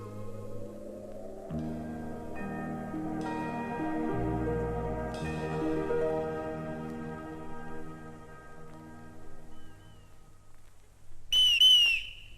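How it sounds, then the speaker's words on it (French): Sustained music plays, then near the end a brief, loud, shrill whistle blast cuts in sharply above it. "Ce fut un coup de sifflet strident qui le lendemain réveilla Heidi."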